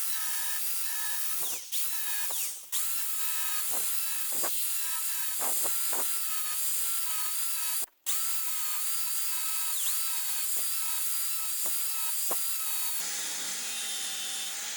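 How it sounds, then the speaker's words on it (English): A cutting tool scores the inner wheel bearing race on a Honda Civic front hub, a steady high grinding whine broken by short pauses and repeated strokes, close up and without talk. "Just take your time and score the race."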